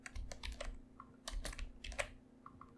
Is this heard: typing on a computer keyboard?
yes